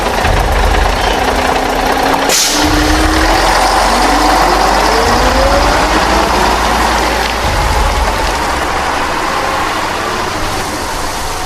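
A night bus engine rumbles loudly and continuously as the bus pulls away, a deep low drone with a rising whine as it gathers speed, heard from inside without any talk.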